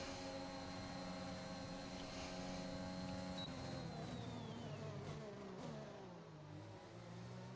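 Several race cars in a racing video game scream past on the Bahrain circuit, their engines droning at high revs. One engine note drops away as a car overtakes, and loud continuous engine noise fills the clip.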